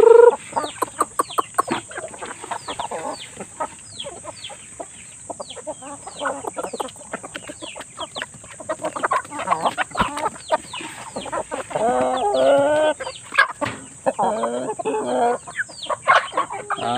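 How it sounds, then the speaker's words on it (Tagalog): A Shamo Aseel Basilan rooster on a farm clucks in quick, rhythmic bursts, with crowing and louder calls building toward the end, close by over a faint background hum. "ito namang tandang na ito ay ito pong Samoa basilan"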